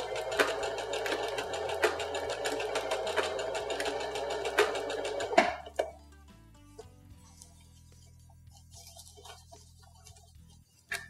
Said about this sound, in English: you're going to back stitch 3 or 4 times